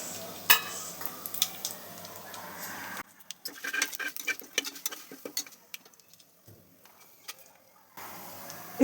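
Whole cardamom, star anise and cloves crackle in hot oil for a chicken biryani, a close sizzle with scattered pops and stirring clicks that drops away for several seconds midway and then returns.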